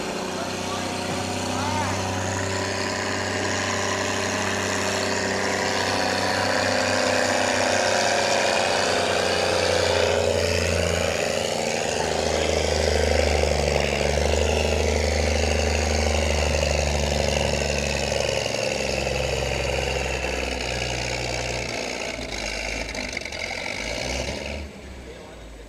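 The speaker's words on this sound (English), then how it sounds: "Now we get the G1000 revved up." A 10,000 lb class pulling tractor at a county fair barnyard tractor pull roars in a loud, sustained drone with rising and falling engine pitch, while people talk over it throughout.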